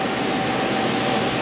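A vacuum pump drones steadily while evacuating a car air conditioning system, a continuous even hum with no breaks across the short stretch.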